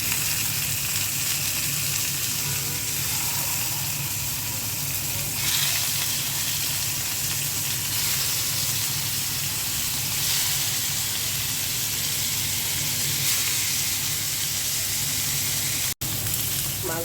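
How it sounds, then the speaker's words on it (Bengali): An orange-colored fish, called Japanese fish, fries in hot oil in a pan with a steady, dense sizzle and hiss that stays loud and even throughout, with faint clatters now and then. "প্রথমে মাছটা ভেজে নেব।"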